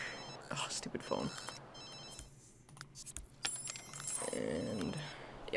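A ringing phone in The Sims 3 sounds as repeated electronic bell tones against game background sound, with a person talking.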